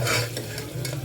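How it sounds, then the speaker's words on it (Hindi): Chopped tomatoes sizzle in a hot pan while a utensil stirs them, giving close scraping strokes over a continuous frying hiss. "टमाटर हमने डाल दिए काट के।"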